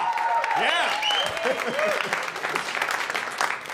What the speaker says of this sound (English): Pre-applause, I like it.